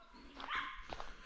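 A dog out in the wild gives a couple of short, close barks and yips.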